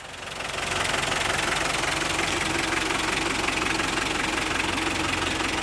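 A car engine idles in a driveway, giving a steady, close broadband rumble that swells in over the first second and then holds evenly, with no talk.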